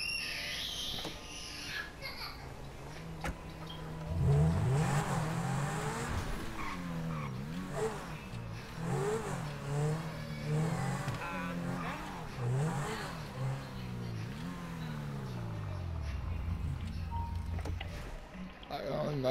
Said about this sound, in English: Hold on, just let me park my car behind the store